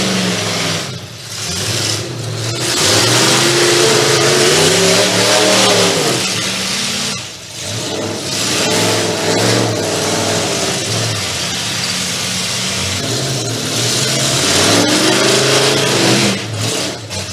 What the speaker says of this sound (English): That car's way overheated.